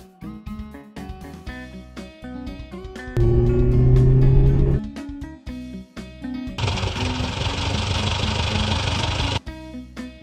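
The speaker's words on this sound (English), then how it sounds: "Bus." A bus engine idles in steady, loud bursts, with a rough low rumble around a tonal whine, separated by short pauses and faint background music.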